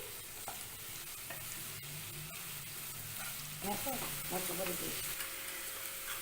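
Sugar being stirred into grated carrot sambharo over a high gas flame: a continuous sizzle with scraping stirs and a low hum, close by, with a faint voice in the background.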